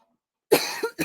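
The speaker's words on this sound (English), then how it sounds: "Now I'm coughing." A single sharp cough bursts out after silence, followed by a quick second cough, close and fairly loud.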